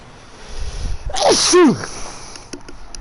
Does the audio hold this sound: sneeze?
yes